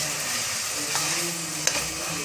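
Vegetables sizzle steadily in a pan while a spiced vegetable rice is cooked for a pressure cooker, a constant close frying hiss with a few faint stirring knocks.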